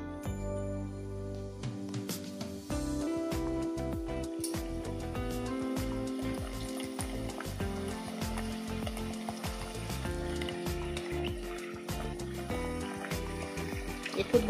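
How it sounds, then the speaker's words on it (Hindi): Katori chaat baskets deep-frying in hot oil inside steel bowl moulds, a steady dense sizzle and bubbling that fills the whole stretch, close and loud with no talk. "अब ये कटोरी हम इस तेल में डालेंगे।"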